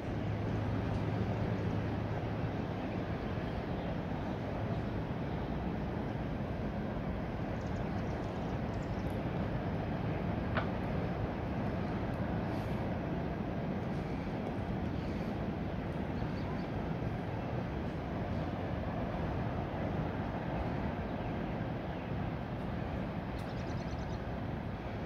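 Norfolk Southern empty hopper freight train heading westbound, a steady broad rumble and rattle that stays constant throughout, loud and close with no pauses.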